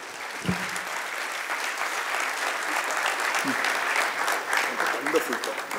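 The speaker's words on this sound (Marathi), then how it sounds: "जोरदार टाळ्या त्यांच्या" Audience applause fills the whole stretch, steady and dense, with a few faint voices murmuring underneath.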